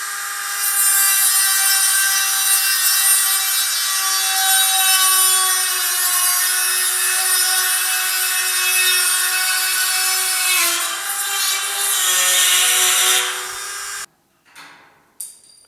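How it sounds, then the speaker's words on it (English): A Dremel rotary tool whines at high speed while trimming a GM A-body filler panel for a rusted rear window channel, a loud, steady grinding tone lasting about fourteen seconds before cutting off, followed by brief handling noises. "I'm going to finish the rest with a Dremel."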